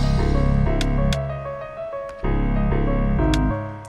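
A looping Detroit-style hip-hop beat made in FL Studio, with piano chords and sharp percussion and clap hits, steady rhythm, a brief thinner break in the middle before the full groove returns.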